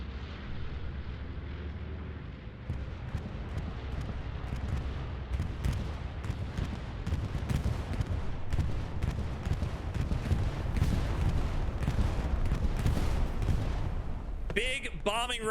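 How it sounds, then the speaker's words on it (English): A bombing run in the World War II game Hell Let Loose at Omaha Beach brings a dense barrage of explosions and gunfire, rumbling and cracking continuously at a distance, with a voice briefly heard near the end. "Bombing run coming in."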